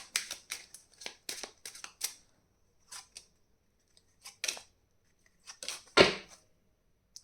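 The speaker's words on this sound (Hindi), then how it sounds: "इस डेक से 3 कार्ड्स निकालेंगे।" Tarot cards drawn one by one from a deck, crisp papery slides and flicks in short separate bursts with pauses between, one louder snap near the end, close and fairly quiet with no talking.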